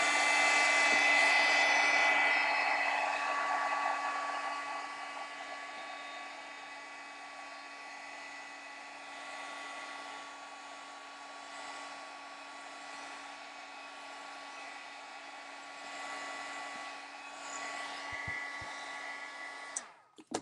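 Hair dryer blowing over a freshly painted banner, a steady whining whir with a constant tonal hum that starts louder and settles slightly softer, running alone for about twenty seconds before cutting off.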